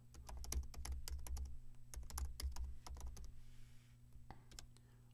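Rapid clicks of typing on a computer keyboard, a quick burst of keystrokes that slows to a few sparse taps near the end, close and quiet over a faint hum.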